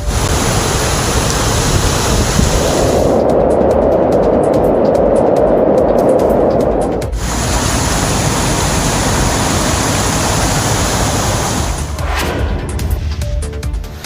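Heavy rain pouring down in Thoothukudi, a dense, steady roar of broadband hiss that continues for the whole stretch, loud and close, with a brief dip partway through and no voices.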